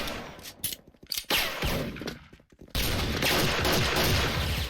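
Gunfire in the Thai shooter game Special Force with a White M629 revolver, sharp separate shots and mechanical clicks early on, then a dense continuous rattle of fire, moderately loud, no voices.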